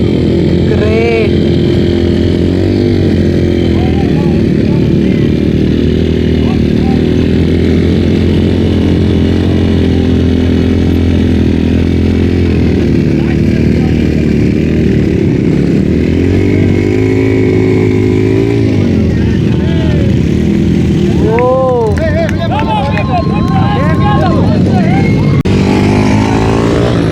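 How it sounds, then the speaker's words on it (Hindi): Several motorcycles race a flat track course, engines droning loudly and continuously with rising and falling revs as bikes pass, and a person talks over the racket. "This is a flat track race guys."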